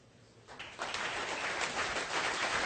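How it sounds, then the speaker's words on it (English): An audience at a 2012 forum presentation claps together. Scattered claps quickly swell into a steady wash of applause from a crowd that fills the room. "Everybody stand up and clap 5 times and sit down,"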